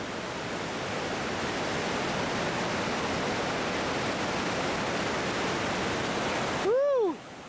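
A powerful waterfall in North Cascades National Park, Washington, roars as a steady, loud wash of rushing water, until a person lets out a short whoop near the end.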